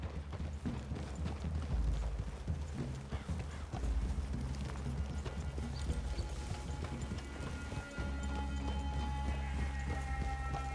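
Rapid, rhythmic hoofbeats of horses galloping in the video game Red Dead, close and continuous, with occasional snorts and a brief pause before the pounding resumes.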